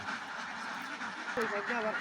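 Several ducks on a duck farm quack in short, nasal bursts near the end as they are let out, over a steady background hiss and faint voices.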